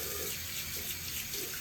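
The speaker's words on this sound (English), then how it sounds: "I have to drain that water because that's nasty" Dirty soapy wash water drains out of a sink in a cruise ship cabin, a continuous close gurgling rush with no pauses.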